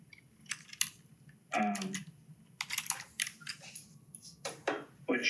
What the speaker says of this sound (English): Oh, good typing.